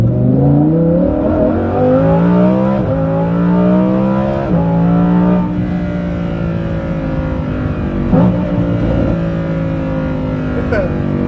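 A loud Lamborghini Huracán Performante with a Kline Innovation exhaust in Corsa mode roars continuously, its pitch climbing and then dropping sharply with each gear change.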